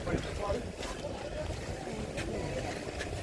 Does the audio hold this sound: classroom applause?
no